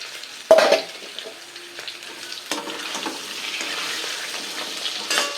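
Pumpkin pieces drop into a hot pan of oil for a traditional Thanjavur-style tamarind gravy, landing with a sharp clatter, then a steady frying sizzle with occasional stirring scrapes, close and moderately loud, no talking.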